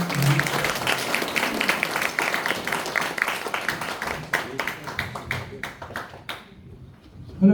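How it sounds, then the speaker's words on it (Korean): An audience in a church education hall claps to welcome a pastor on stage, dense applause thinning into scattered individual claps, with a voice starting to speak at the end. "우리 목사님 나오실 때 큰 박수 부탁드립니다."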